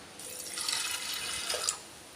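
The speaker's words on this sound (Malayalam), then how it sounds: "ഇനി ഇതിലേക്ക് നമുക്ക് പരിപ്പ് വേവാൻ ആവശ്യമായിട്ടുള്ള വെള്ളം ഒഴിച്ച് കൊടുക്കാം" Water pours into a pressure cooker holding toor dal and turmeric for Kerala-style sadya sambar, a soft steady splashing stream lasting about a second and a half before tapering off.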